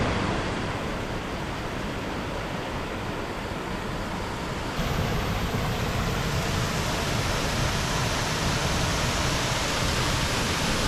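A thundering waterfall at Phou Hua Lon in Laos roars as a dense, unbroken wall of rushing water, loud and close, with no voices heard.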